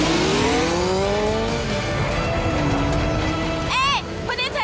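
A cartoon turbo booster engine roars in a steady racing drone, ending in a quick rising whoosh near the end, with excited voices talking over it.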